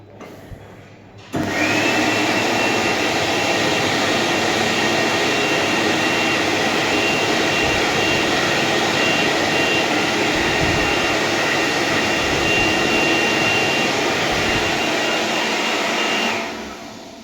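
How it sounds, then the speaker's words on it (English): An Ardrich A260M hand dryer in a cafe toilet starts abruptly and blows with a loud, steady roaring whine for about fifteen seconds before cutting off. "only one of them has a hand dryer in it, and the hand dryer in question is an Ardrich"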